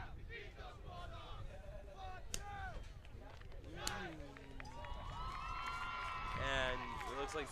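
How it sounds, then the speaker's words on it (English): Cheerleaders' voices and crowd cheering at a high school powder puff football game, a mix of high shouts and chant-like calls that grow louder and more sustained toward the end, with talk over it. "cheerleaders will cheer."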